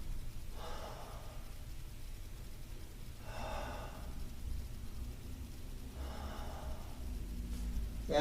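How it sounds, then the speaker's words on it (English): Three slow, deep breaths taken during senior chair yoga, each a soft, airy exhale spaced a few seconds apart over a steady low room hum. "3 deep breaths."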